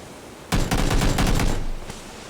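Burst of gunfire from a competitive PUBG match, several rapid shots fired in quick succession, loud and close, followed by a single later shot.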